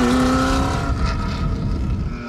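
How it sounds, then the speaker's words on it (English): A Ford GT40 race car drives at speed on a track, a loud steady engine drone close by with a strong, slowly shifting engine note and no voices. "the GT40 performed as if we were on a warm-up lap at Le Mans Sebring"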